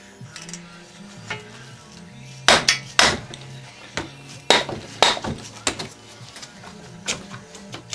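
Hammer taps knocking parts off a Kawasaki KDX two-stroke motor without cooling fins during a teardown: several sharp, close metallic strikes, some in quick pairs, over a faint workshop hum.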